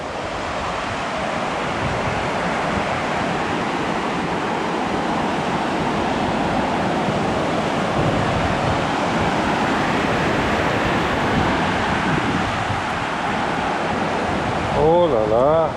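Waves of the North Sea breaking on a Danish shore, a steady broad wash of surf with wind buffeting the microphone, continuous and fairly loud throughout, alone with no talk.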